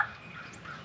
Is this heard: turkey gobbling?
yes